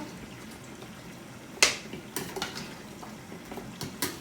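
A cooking pot of meat is checked: one sharp metallic clank of lid or spoon on the pot, then several lighter knocks and clinks over a low, steady kitchen background, with no talking.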